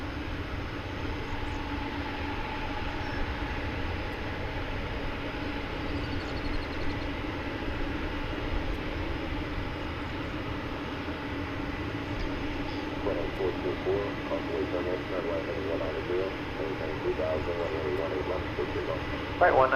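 A jet taking off at DFW Airport at daybreak, a continuous distant engine roar droning steadily across the whole stretch with a faint hum underneath.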